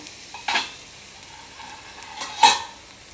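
Long beans and other vegetables fry in a pan for puffed rice upma, a quiet steady sizzle broken by two sharp stirring scrapes of a spoon.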